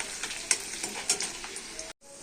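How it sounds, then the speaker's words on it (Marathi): Garlic sautés in hot oil with mustard seeds, cumin and curry leaves for a garlic okra dish. A brief close sizzle is marked by sharp pops and stirring scrapes, cutting off abruptly near the end. "मस्त लसूण परतून घ्यायचं आहे।"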